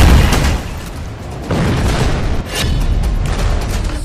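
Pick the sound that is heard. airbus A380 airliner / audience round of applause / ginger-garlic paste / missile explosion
missile explosion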